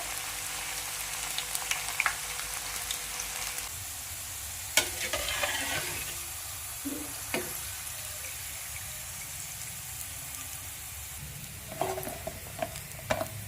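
Onion pakoda fry in hot, bubbling oil, giving a continuous crackling sizzle broken by sharp clinks and scrapes of a utensil in the pan, all at moderate volume with no talking.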